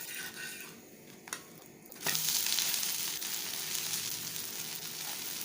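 Green moong dal pesarattu dosa cooking on a pan over a medium flame, a steady close sizzle that jumps louder after a brief scrape and then keeps frying evenly.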